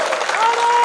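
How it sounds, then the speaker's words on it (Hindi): Brief burst of crowd applause at a Hindi poetry gathering (kavi sammelan), a dense, loud clapping wash lasting under a second with a faint tonal whistle running through it. "तालियों का एक उत्सव कर दें।"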